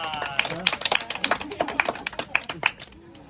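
A small group of visitors at the Mystery Spot in Santa Cruz gives a short round of applause, with sharp, uneven claps nearby and a guide's voice over them at the start, trailing off near the end.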